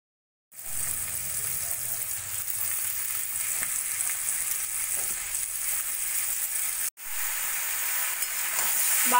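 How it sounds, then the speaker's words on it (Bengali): Bottle gourd frying in a pan with spices and green chilli, a steady loud sizzle with soft stirring scrapes running throughout, cut by a brief break near the end. "লাউগুলো দিয়ে ভালো করে এবার আমি মশলার সঙ্গে মিশিয়ে নেব।"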